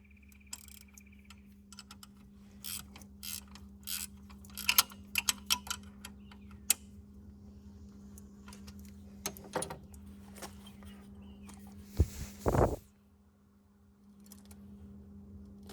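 Ratchet clicks while the air conditioning belt is tightened on a Kubota SLV75: scattered short ticking bursts, close and fairly quiet, with a steady low hum underneath and a brief louder rattle near the end.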